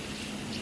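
Filtered water pours into a dried fish and vegetable curry in a pan, a brief, close, steady gushing splash lasting under a second with no voices.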